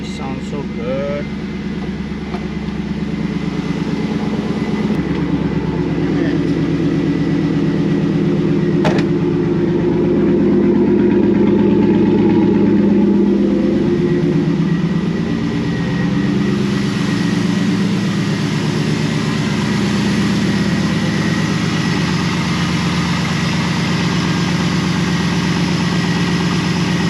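A Firebird LS V8 with a newly replaced starter idles steadily at close range, a low rumbling drone running throughout with voices occasionally talking over it.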